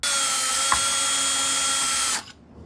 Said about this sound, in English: I'm just gonna lightly touch this surface to the belt sander